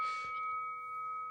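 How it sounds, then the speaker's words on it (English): A boxing bell is struck once and rings out as a clear, sustained metallic tone that holds steady for over a second, with no voices. "Hit the bell."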